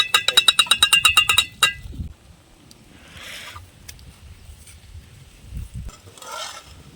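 A metal spoon clanks rapidly and rhythmically against a pot while stirring chicken sukka fry outdoors in a village, then gives way to soft sizzling and frying with occasional scrapes.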